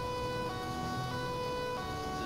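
Slow police siren of the old Volvo kind in GTA 5, a steady held wail with stacked harmonic tones running unbroken through the clip over low traffic rumble.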